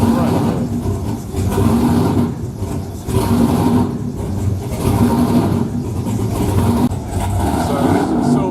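Silverline powerboat's engines, each rated at 1,000 horsepower, firing up at a scrutineering day: deep, throaty idling rumble with several surges and revs, loud and close, with voices talking underneath.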